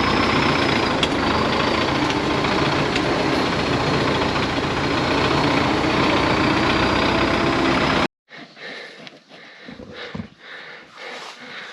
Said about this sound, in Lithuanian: Kur tu taip skubi, traktoriokai?